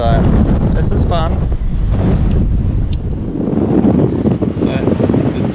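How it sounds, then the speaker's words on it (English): Strong wind of 25-plus knots roars around the mast of a Pegasus 50 carbon sailing yacht, with heavy, gusty rumble and buffeting close to the microphone, and a voice talking underneath. "especially as it's blowing 25 plus knots"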